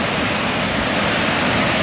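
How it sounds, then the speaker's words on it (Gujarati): River water pours over a check dam on a road near Chuda in Junagadh district, a loud, steady broadband rush close by with no talk. "આ નજારો ચૂડાથી ઢોળવા રસ્તા ઉપરની નદીનો છે, જે ચેકડેમ છે"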